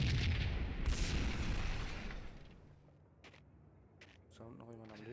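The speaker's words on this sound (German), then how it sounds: "Alles explodiert." Loud, dense rumbling blasts from Max Payne gunfights fill the first two and a half seconds, then fade to a quieter stretch with scattered short bursts and a voice talking near the end.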